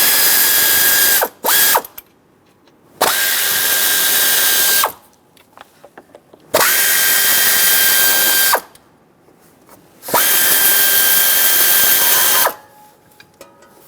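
Ratchet wrench clicking steadily as 13mm bracket nuts come off a 2003-2009 Dodge Ram 2500 5.7L V8 engine, in four loud bursts of rapid close pawl clicks separated by short pauses.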